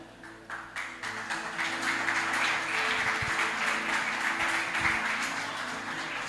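An audience at a church-style gathering applauds together in a dense, sustained wash of clapping that swells after a second and holds steady, moderately distant and without talk.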